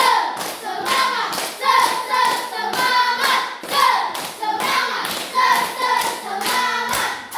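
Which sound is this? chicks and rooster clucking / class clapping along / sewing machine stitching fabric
class clapping along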